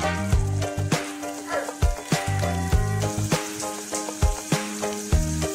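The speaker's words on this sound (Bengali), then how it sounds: "প্যানে তেল দিয়ে চিংড়ি দিয়ে ভালোভাবে নাড়তে হবে" Prawns fry in hot oil in a pan, giving a sharp crackling sizzle broken by repeated clattering stirs and knocks, each one rhythmic and close by under a steady hiss.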